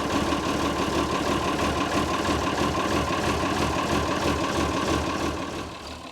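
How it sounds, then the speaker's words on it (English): A tractor engine idles steadily after starting, warming up with a constant close rumble and even, fast rhythmic chugging that eases off slightly at the end. "Once we've started our tractor, it's a good idea just to let them warm up for a minute or two before you move off."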